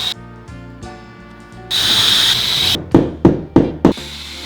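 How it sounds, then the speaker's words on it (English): An electric drill whirs loudly for about a second, then a run of four sharp knocks and bursts of drilling or tool contact on wood follow, close and alone without talk. "This is my first time drilling something"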